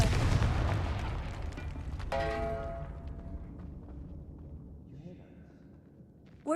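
A Confringo blasting spell explodes in the Hogwarts Legacy game with a loud opening burst and a rumble that slowly fades over several seconds. A bright ringing tone follows the blast, and a voice is heard.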